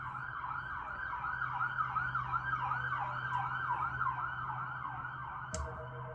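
Wailing emergency sirens in a video game, a continuous rising-and-falling yelp repeating steadily with a low engine drone underneath, with a brief sharp click near the end.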